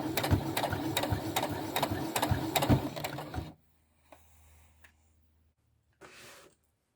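A sewing machine with a curling foot stitches fabric in a steady, fast mechanical chatter that stops abruptly halfway through, followed by quiet with a few faint clicks and a brief later burst of sound.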